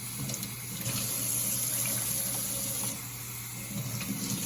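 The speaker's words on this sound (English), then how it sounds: "you want to rinse the hedgehog off" Tap water runs steadily into a sink while a bathed hedgehog is rinsed clean of soap, a continuous close splashing flow with no talk.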